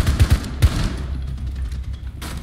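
Video game gunfire rings out in a few quick, punchy bursts at the start. A rattling, echoing wash follows and fades into a busy background.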